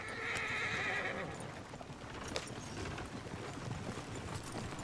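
A horse whinnies near the start in Red Dead Redemption 2, followed by steady hoof clip-clops and a constant background wash of ambient noise.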